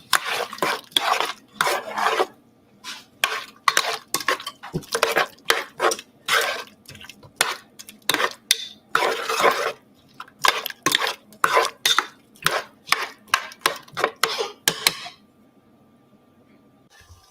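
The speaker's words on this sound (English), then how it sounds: "And I'm going to stir it." Peaches stirred in a metal pot, with a spoon scraping and clanking against the sides in quick repeated bursts that stop abruptly near the end, leaving quiet.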